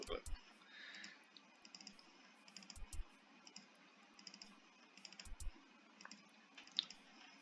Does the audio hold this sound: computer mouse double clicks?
yes